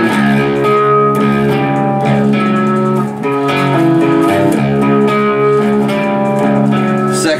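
Distorted electric guitar riff, heavily palm-muted, chugging steadily and loud throughout with dense sustained harmonics and no voices.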